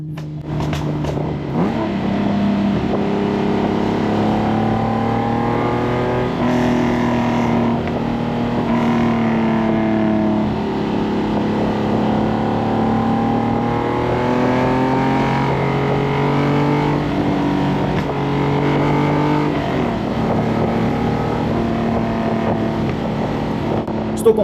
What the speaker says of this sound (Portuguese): Estou completamente hipnotizado por essa fera de motor.